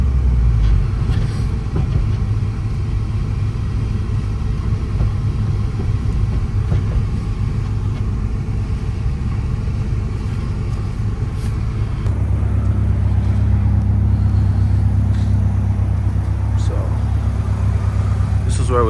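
A 2000 Honda Civic SI rumbles along from inside the car, its engine drone steady and close, then deepening into a louder low hum as it pulls in, while someone talks over it.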